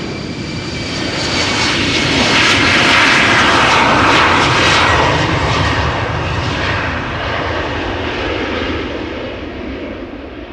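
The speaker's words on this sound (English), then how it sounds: "Another Embraer 190, outbound to Glasgow." An Embraer 190 jet departs Amsterdam Schiphol outbound to Glasgow, its engine roar loud and broad, swelling to a peak midway and then holding steady as a sustained rushing drone with no talk.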